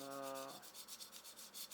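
A pencil shades paper for a forest drawing, giving a quick series of rhythmic scratchy rubbing strokes after a brief sustained tone at the start, close and moderately quiet with no speech.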